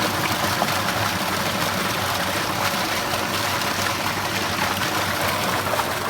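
A steady, dense rush of engine-pumped water pours and splashes continuously without pause, loud and close, with no voices.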